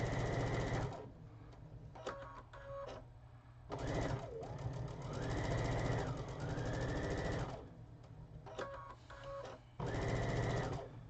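A domestic sewing machine stitching fabric in several bursts, starting and stopping with short pauses. The motor hum and rapid needle clatter are close and clear, with no talk.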